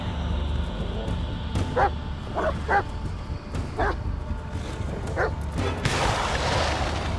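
A dog barks in the Blair Witch (2019) horror video game: about five short yips spaced across a few seconds over a low ambient rumble, followed by a burst of hissy noise, with no one talking.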